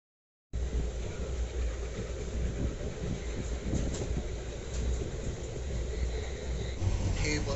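Interior of a moving passenger train in Maharashtra, a steady rumbling roar of wheels and carriage with faint rhythmic clatter and rushing air, continuous and fairly loud, no clear voices.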